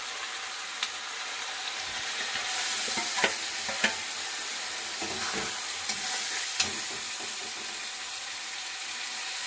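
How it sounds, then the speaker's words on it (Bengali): Spice paste loosened with a little water sizzles in hot oil in a pan, a dense steady hiss with occasional soft spoon taps and stirring scrapes. "খুব সামান্য একটু জল দিয়ে দিচ্ছি জল দিয়ে মশলাটা একবারে সব দিয়ে দেবো"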